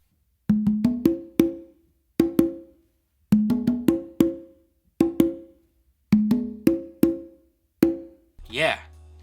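Congas play a funk melody tumbao pattern of crisp hand strikes in short repeating clusters, close and dry with silence between phrases. A brief vocal sound comes at the end.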